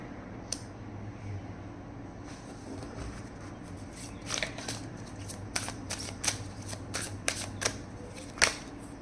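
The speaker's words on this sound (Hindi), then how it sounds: "ओके, एक और कार्ड निकालते हैं।" Oracle cards are shuffled and drawn during a reading, a run of crisp, close riffling snaps and flicks that grows busier partway through, over a low steady background hum.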